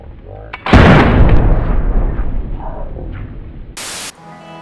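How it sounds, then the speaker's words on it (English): A grenade blast in the video game DayZ, one loud, close explosion erupting into a long rumbling, crackling decay, with faint background sounds before and a brief burst of static near the end. "I shot this grenade and he exploded!"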